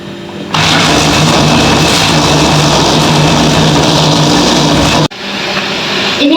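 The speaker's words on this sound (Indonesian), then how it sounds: "Lalu kita blender" A blender whirs loudly and steadily as it blends pandan leaves with a little water, running for several seconds before cutting off abruptly, followed by quieter background noise.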